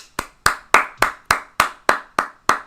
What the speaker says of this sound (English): All right, golf claps. I'll take them.